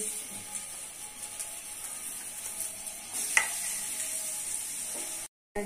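Chopped onions frying in a pan, with a soft continuous sizzle and stirring scrapes, one sharper scrape partway through and a brief dropout near the end.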